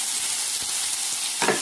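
Squid balls and hot dogs stir in a frying pan under a steady, close sizzle, with a few soft utensil scrapes and a brief louder stir near the end.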